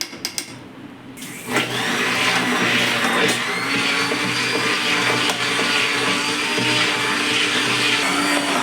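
An electric mixer beating a mango ice cream mixture, whirring up after a brief start and running loud and steady close by, with no talk over it.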